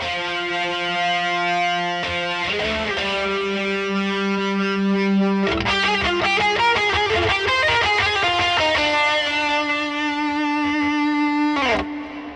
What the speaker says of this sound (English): there's this little guitar riff that I play during the singing part